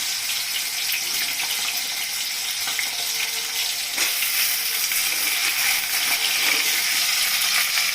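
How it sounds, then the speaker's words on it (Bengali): Small cut potatoes frying in a pan make a loud, continuous hissing sizzle with occasional crackles and light clinks, close and steady for the whole stretch. "আলুটাকে ভালো করে লাল লাল করে ভাজবো।"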